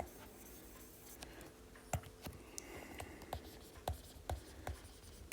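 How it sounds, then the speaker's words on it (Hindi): Pen or chalk writing out a math definition during a class 10 lesson on real numbers, with quiet scratching strokes and soft taps in an irregular rhythm, faint and close, with no talk. "हम यहाँ डेफिनेशन लिख देते हैं"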